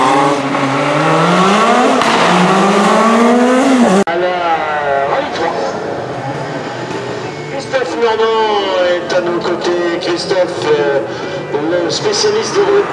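Race car number 68 at the Bettant historic hill climb, engine loud and close from the start and then pulling away with rising and falling pitch, while a commentator talks over it throughout.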